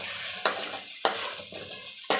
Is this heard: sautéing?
yes